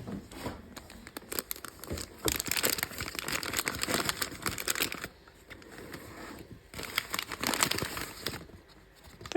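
Crinkly plastic packaging around Barbie Basics doll clothes, including trousers, rustles and crackles in dense bursts while being handled up close, with two louder spells separated by a quieter pause.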